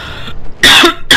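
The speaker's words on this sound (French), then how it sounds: "Je fais tout pour tousser le moins possible." A person coughs and clears their throat close to a microphone: a muffled throat sound, a short pause, then a loud harsh cough burst and another starting at the end.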